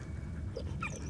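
A dog whimpers in the war video game Valiant Hearts, a brief, faint, high whine over low background rumble, heard alone without talk.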